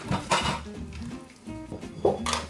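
Vietnamese sweet-and-sour fish soup being stirred in an Instant Pot after sorrel, basil, green onion and fried garlic go in, with a few close clinks of a utensil against the pot amid soft sloshing.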